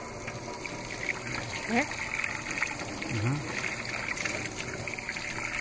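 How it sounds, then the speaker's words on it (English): Running water rinses coagulated blood from a gutted trout at a lake, a steady splashing trickle under a voice speaking briefly. "And just give it a good rinse. You want to get all this like coagulated blood out"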